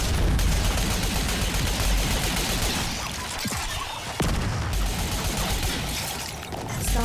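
Gunfire in the Destiny Crucible multiplayer mode, a dense, continuous barrage of shots with loud crackling bursts running throughout.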